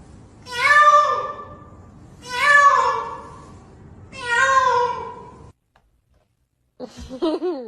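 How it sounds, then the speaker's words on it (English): A pet cat named Bagel meows three times in a row, each cry long and clear with short pauses between, then a brief silence and a softer final sound at the end. "You meow!"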